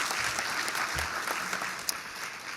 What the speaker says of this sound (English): I think it's probably worth another round of applause for her.